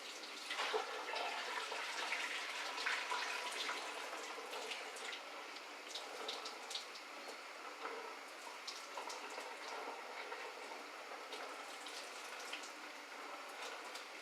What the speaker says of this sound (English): I'm going to drain out my macaroni pasta